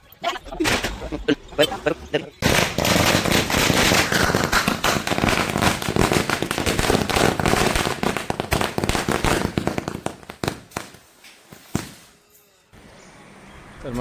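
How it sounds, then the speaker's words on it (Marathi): Firecrackers go off on Diwali morning near Ganpatipule temple: a dense, loud barrage of close bangs and crackling bursts that runs for about ten seconds, then stops, with a few scattered pops before it starts. "आता जरा वाजवूया फटाके सकाळचा स्टॉक रेडी आहे"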